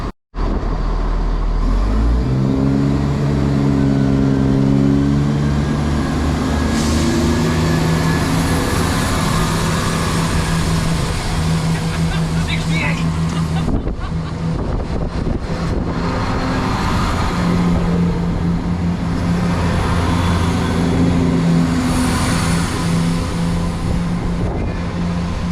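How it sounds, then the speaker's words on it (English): Two coupled Chiltern Railways class 168 diesel multiple units pulling out of Bicester North station, a loud sustained engine drone that rises in pitch as they accelerate away, with wind buffeting the microphone throughout. "168327 and 168113 have just departed, heading out on the 1354 Chiltern Railway service from Birmingham Moor Street to London Marylebone."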